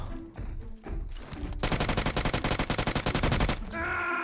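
Gunfire in the mobile battle royale game PUBG Mobile on the Erangel map: a rapid, loud automatic burst of evenly spaced shots lasting about two seconds, followed by softer game sounds, with no talk over it.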